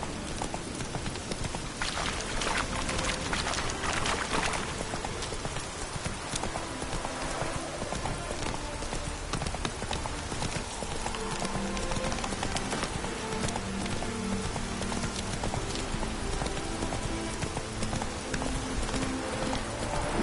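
Horse hooves clip-clop steadily at a brisk pace in The Witcher 3: Hearts of Stone, over a dense bed of game music and ambience, continuous and fairly loud throughout.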